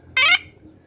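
A single short electronic bicycle horn beep, a bright, buzzy synthetic tone with a slight pitch sweep, cutting off quickly.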